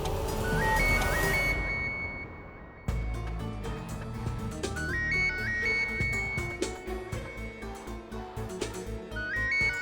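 A melodic electronic phone ringtone plays a repeating tune of bright beeping notes, cutting off and restarting with a busier, louder pattern.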